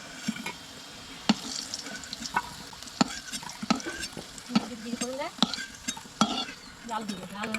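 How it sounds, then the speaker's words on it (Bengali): Fried potatoes lifted out of sizzling oil, with a constant frying crackle under repeated sharp scrapes and clinks of a metal utensil against the pan. "তো এখন আমি আলু ভাজা হয়ে গেছে ওগুলো এখন তুলে নেবো"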